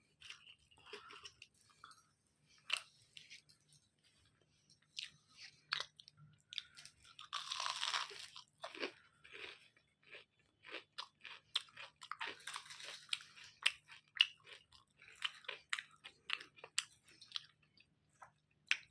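Someone chews crisp fried eggplant fritters (beguni), with close, irregular crunching and biting bursts repeated over quiet pauses, no talk.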